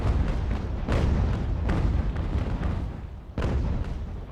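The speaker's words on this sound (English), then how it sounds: "More devastating shots through the Invincible's bow." Naval cannon broadsides from the age-of-sail strategy game Ultimate Admiral: Age of Sail, a loud, continuous rumble of overlapping booming shots with sharper blasts near the start and end.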